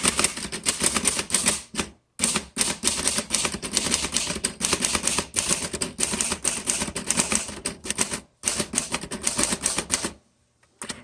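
A 1936 Remington Rand 5 manual typewriter being typed on steadily and loudly, with dense runs of key strikes broken by a couple of brief pauses and ending in quiet.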